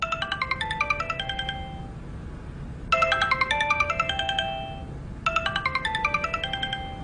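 A telephone rings indoors in a home, three bursts of a bright repeating electronic melody separated by short gaps, clear and fairly loud with no talk over it.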